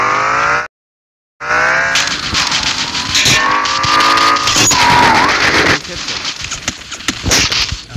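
A McLaren race car in a video game roars and revs loudly, with sustained tire squeal and skidding as it slides through turns; the engine note rises and falls, and there is a brief dropout near the start.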